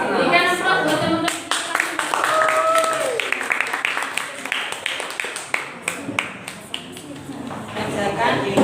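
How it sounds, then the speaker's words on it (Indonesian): A classroom audience claps in applause for a group of presenting students, a dense run of hand claps across the whole stretch, with voices talking over it. "Berikan aplaus buat teman-teman."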